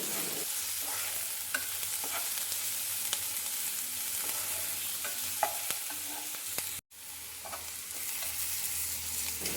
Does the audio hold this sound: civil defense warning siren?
no